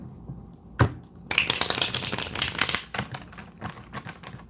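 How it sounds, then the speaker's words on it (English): Tarot cards being shuffled by hand, opening with a single sharp tap, then a dense, close run of riffling and flicking card noises that fades into intermittent softer shuffles. "Let me start shuffling."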